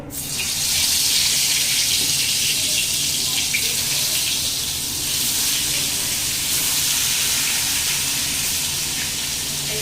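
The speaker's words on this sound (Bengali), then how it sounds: "তেল গরম হয়ে গেছে পটলগুলো দিয়ে দেবো" Pointed gourds sliding into hot oil in a heated pan, giving a loud, steady hiss and crackle of frying that runs without a break from start to finish.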